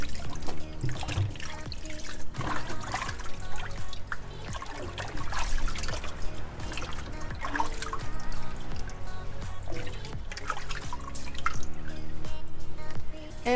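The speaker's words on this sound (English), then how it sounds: "Now just get my strainer to drain the water off." Water drains from washed pumpkin pieces through a kitchen strainer, a continuous trickling and dripping with splashy bursts, close by and steady throughout, with no talk.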